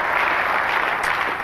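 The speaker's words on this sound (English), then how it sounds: "please give Pam a big round of applause" Dense, continuous clapping fills a room as an audience applauds a volunteer named Pam on stage during a speaker's talk; the sound is loud and close, with no gaps.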